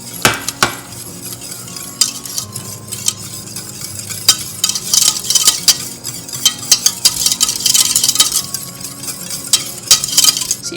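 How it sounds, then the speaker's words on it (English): Roux being stirred into an asparagus soup mixture in a pot, giving a steady run of scraping and clinking utensil sounds against the pot with soft sloshing, close and moderately loud, with no talking. "I'm going to add my roux, nice and smooth, into my asparagus mixture. and give it a stir around."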